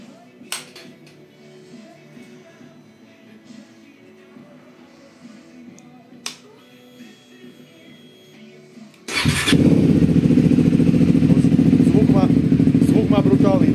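A motorcycle with a Spanish X-Race aftermarket exhaust fires up and settles into a loud, steady engine roar that fills the second half, after a quieter stretch with faint clicks and background noise.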